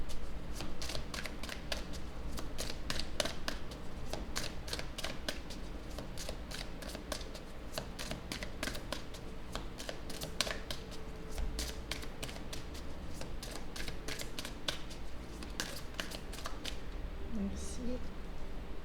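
Oracle cards being shuffled and drawn by hand, a rapid series of crisp riffling snaps and flicks, close and fairly quiet, with a voice talking underneath.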